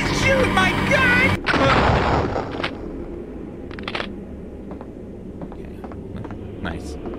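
Gunfire in a haunted first-person shooter remake: one sharp, loud shot cuts through a voice, then scattered fainter shots and clicks follow over a low game ambience.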